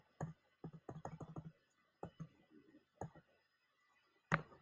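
Calculator buttons pressed by hand, heard as close, dry plastic clicks in quick bursts with short pauses between groups.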